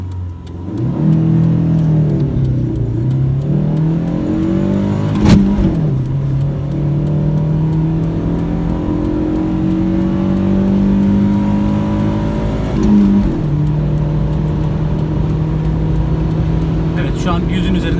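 A Chevrolet Lacetti engine revs hard as the car accelerates from a stop, its pitch climbing steadily with two brief dips at gear changes, loud and close throughout.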